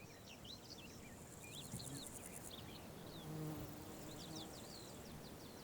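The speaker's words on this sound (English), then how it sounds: "Sometimes honeybees even compete with each other." Honeybees buzzing around blackberry blossom outdoors, a faint, steady insect hum with occasional birdsong chirps in the background.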